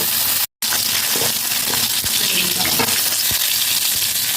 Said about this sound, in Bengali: এপিট ওপিট করে মাছগুলোকে ভেজে নেব